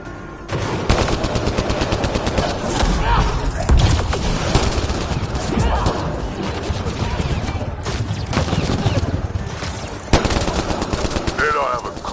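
Sustained automatic gunfire in the game Mass Effect: Andromeda rattles in loud, rapid bursts with overlapping shots and occasional heavier impacts, with voices speaking briefly amid the firefight.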